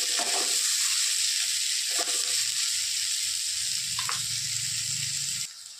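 Chopped onion and green chili sizzling and frying in oil in a pan, a steady hiss with occasional stirring scrapes, no talk.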